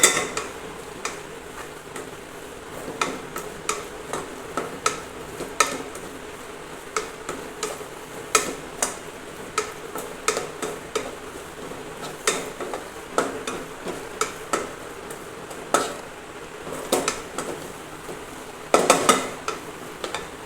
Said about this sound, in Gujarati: હવે તેને આપણે થોડી વાર માટે આપણે તેને હલાવતા રહેશું